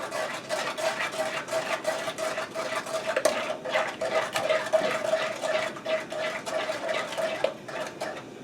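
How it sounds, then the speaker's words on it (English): Banana sauce being stirred in a pot over medium heat: repeated soft scraping and clinking of a utensil against the pot, steady and close, with no talking. "I'm going to give this a stir."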